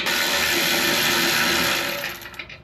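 A 50mm socket on a ratchet wrench loosens exhaust clamps on a Camaro LT1 with a Corsa Extreme exhaust, making a steady, dense mechanical whirring rattle close by for about two seconds before it trails off.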